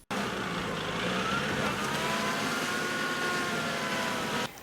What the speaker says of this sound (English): The two health workers drive on a slippery and soggy road for about 5 kilometers.